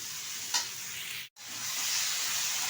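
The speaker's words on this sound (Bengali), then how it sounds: "সবজিটা বেশ কিছুক্ষণ নেড়ে চেড়ে নিয়েছি" Mixed vegetables sizzle in a pan under a steady, moderate frying hiss, with one faint stir early on and a brief dropout midway.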